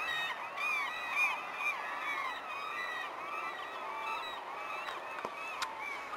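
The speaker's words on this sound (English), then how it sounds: "There is a lot of gulls over there." Many gulls call noisily at once, a continuous overlapping chorus of squawks and cries heard from some distance, fairly faint throughout.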